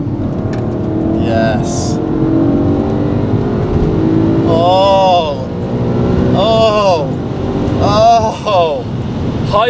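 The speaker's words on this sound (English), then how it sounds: "it sounds like you don't hear that anywhere else, that kind of high revving V8" A BMW E90 M3 with a high-revving V8 accelerates hard in third gear from about 4,000 RPM, its engine note climbing loudly through the rev range with rising pitch sweeps and gear shifts, while occupants exclaim excitedly.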